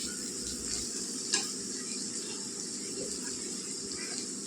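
Chili powder fries in oil in a pan while being stirred, a steady dense sizzle with a single sharp scrape of the spoon early on.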